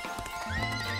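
A horse neighs in an animated children's story, a loud close whinny rising and falling over about a second, with light clip-clop beneath it.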